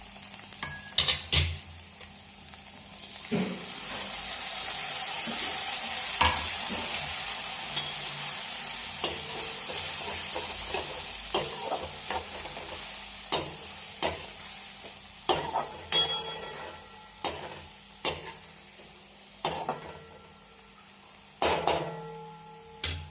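Garlic chutney stirred into okra (bhindi) frying in a pan for masala bhindi: a steady close sizzle with repeated spoon clinks and scrapes against the pan, and no talking.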